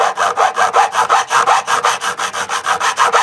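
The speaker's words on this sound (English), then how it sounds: "I'm just going to take my fret file." A fret file works a fret on a Telecaster-style guitar in a quick, steady back-and-forth rhythm of about five strokes per second, each stroke a loud, close rasp heard alone.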